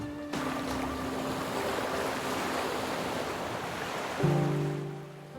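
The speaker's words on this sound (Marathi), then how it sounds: "या लाटा जेव्हा किनाऱ्यावरच्या खडकांवर धडकतात" Sea waves on the long sandy shore of Karde beach in Dapoli, breaking against rocks at the water's edge: a soft, continuous wash of surf with faint wind, no voices.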